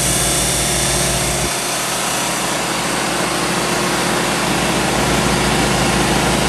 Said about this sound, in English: using a 5-horsepower gas rotary vane compressor